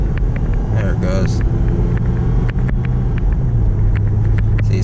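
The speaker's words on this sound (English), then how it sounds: "See, it skips third gear." A 2008 Lexus IS with a failing transmission that skips third gear, its engine droning steadily and loudly from inside the cabin, with a low rumble and faint intermittent ticks and a voice speaking.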